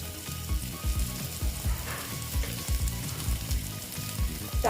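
Ground coriander, cumin and chilli powders hit hot oil for an ash gourd curry, giving a close, steady sizzle with soft rhythmic stirring scrapes and no voices.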